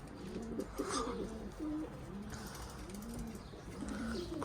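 Arab pigeons coo softly in a series of low, repeated calls, fairly quiet, with light mechanical and chirping sounds in the background.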